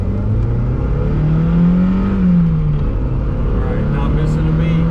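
A 1999 Mazda Miata accelerates up a hill from inside the cabin, engine note rising and falling steadily through the gears with a loud, continuous drone beneath speech.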